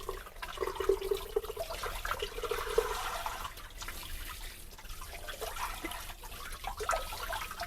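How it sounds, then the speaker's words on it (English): Tap water runs over a sugar- and salt-rubbed pork shoulder roast, a nearby uneven splashing and trickling with surges and lulls as the stream hits the meat, lasting several seconds without speech. "turn on the water, and basically just rinse it off."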